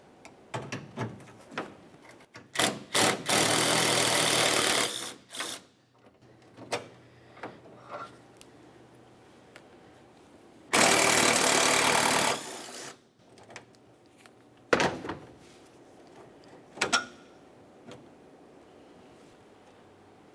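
An 8mm tool, likely a power ratchet, removes a grille mounting bolt on a 1994-2002 Dodge Ram 2500, with two loud sustained whirring bursts of a couple of seconds each, separated by scattered clicks, clinks and handling noises.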